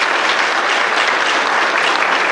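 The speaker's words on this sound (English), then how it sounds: "Give these folks a round of applause for their work." Steady, dense applause from a sizeable crowd at a school athletic hall of fame induction, continuous and fairly loud throughout with no voices standing out.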